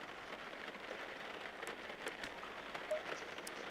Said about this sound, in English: Ooh, we got rain.